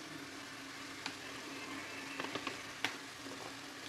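Spices dropped into hot oil in a pan while cooking mung dal, a soft steady sizzle and fry with a few small clicks and taps of utensils, quiet and close, no talking.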